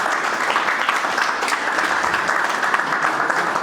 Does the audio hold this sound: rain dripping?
no